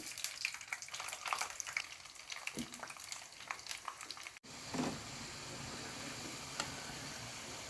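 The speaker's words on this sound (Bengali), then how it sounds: "তেল গরম হয়ে গেছে আলু দিয়ে দিচ্ছি" Potatoes for French fries frying in hot oil, a steady crackling sizzle with scattered stirring knocks, fairly faint and continuing alone without talk.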